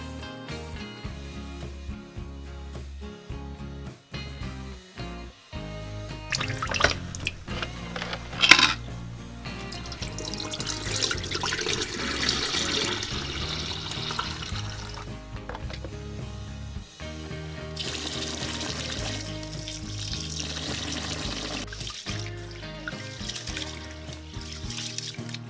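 Glutinous (malagkit) rice being rinsed in water, with grains clinking and water trickling and splashing continuously at close range, with louder swishing bursts in the middle.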